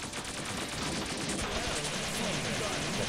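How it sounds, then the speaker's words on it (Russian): Dense, continuous crackling bursts of fireworks launched by an enemy in a video game, loud and chaotic throughout, with game noise layered over the explosions. "ну это-то ерунда, что он тут запускает свои фейерверки"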